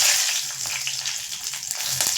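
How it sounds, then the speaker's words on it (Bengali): Dry red chillies fry in hot oil in a pan after small brinjals are fried, giving a steady close sizzle with faint crackles throughout. "এতে আমি শুকনো লঙ্কা ভেজে নেব।"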